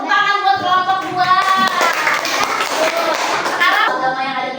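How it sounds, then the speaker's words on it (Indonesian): Classroom applause for a student group breaks out as a short burst of clapping hands, mixed with children's voices and chatter. "Tepuk tangan buat kelompok 2."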